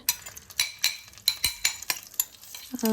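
Grated coconut stirred with ghee in a pan, a spoon scraping and clinking against the pan in repeated strokes with a soft sizzle underneath, close and moderately loud.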